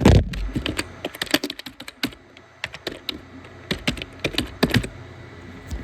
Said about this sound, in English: I just suck at typing with one hand.